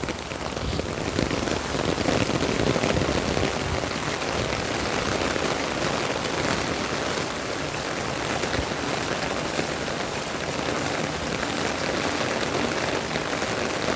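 Steady, heavy rain pours outdoors in a continuous, loud hiss of drops hitting surfaces that never lets up, with no speech.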